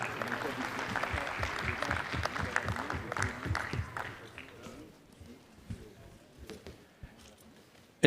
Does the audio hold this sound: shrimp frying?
no